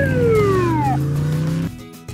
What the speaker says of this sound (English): one police car